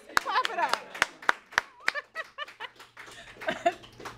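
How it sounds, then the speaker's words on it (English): A few scattered claps sound in a studio audience during a makeup chat show. The claps are sharp and spaced apart, mixed with light laughter and voices talking. "Studio audience, clap it up."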